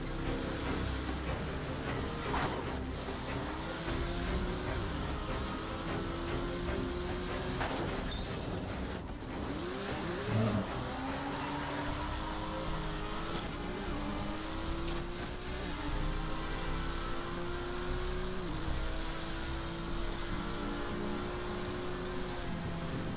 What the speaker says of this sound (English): Driving on a cargo ship